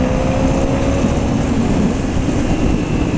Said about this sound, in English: We'll give a little throttle twist.